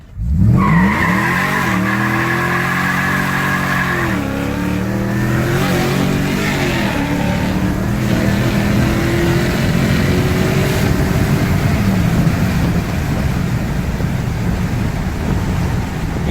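A 2012 Toyota Tundra DoubleCab TRD Sport pickup with over 600 horsepower launches hard on a private road, engine roaring up through rising revs with loud tire squeal and a brief shift dip, sustained and close.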